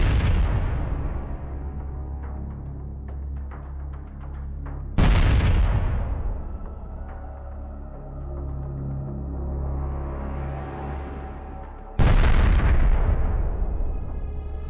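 Drone attack explosions destroying a tank and an infantry fighting vehicle: three loud, close blasts at intervals, each a sharp boom followed by a long rumbling decay, with lingering roar and crackle between them.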